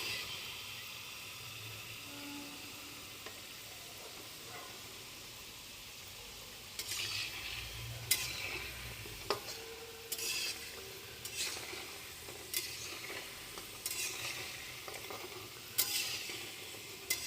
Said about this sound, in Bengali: এখানে কুশলি পিঠে ভাজা হচ্ছে